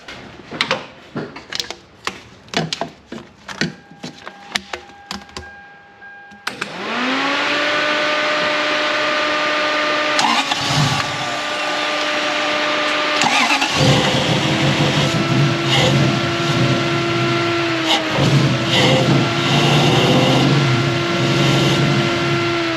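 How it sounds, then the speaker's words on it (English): After some clicks and rattles, a Toyota 1UZ V8 in a Surf with faulty coil wiring cranks and starts, then settles into a loud, steady idle with brief revs partway through. "Just let me get my engine started again."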